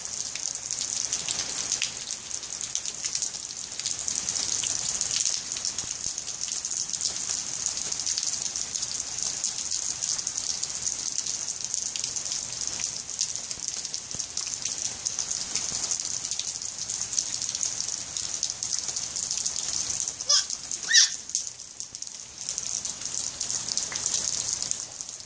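Steady rain patters on surfaces outdoors, a dense, even hiss of drops that continues throughout with one brief sharper splash near the end.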